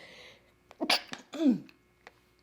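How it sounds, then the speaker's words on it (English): A single sharp sneeze with a quick inhale before it, close up, followed by a soft breathy sound and quiet. "I gotta sneeze."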